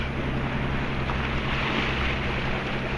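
A sailboat motoring under engine power at night at about 6.7 knots: a steady, unbroken engine drone mixed with wind buffeting and rushing water, constant throughout with no voices.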